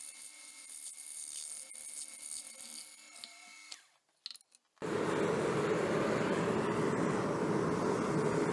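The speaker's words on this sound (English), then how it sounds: "So let's get these pinholes drilled so we can get ready to heat treat this." A drill bores pinholes in a 1095 steel knife blank. A thin, steady whine and rasp is followed by a short quiet gap, then a louder, broadband grinding drone that continues to the end, close and alone.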